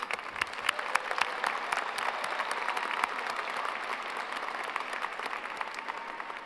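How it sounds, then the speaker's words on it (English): Audience applause for a combined choir at a high school graduation ceremony, steady dense clapping from a large crowd in a hall, sustained throughout at an even level with no talk. "Let's give them one more round of applause."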